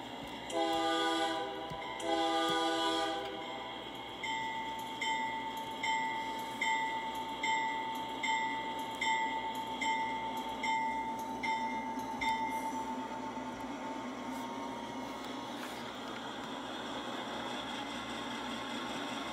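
A GE AC4400CW diesel locomotive in a train simulator game sounds its horn in two loud blasts, then the prime mover drones steadily underneath with rhythmic pulsing and clanking, fading to a constant rumble.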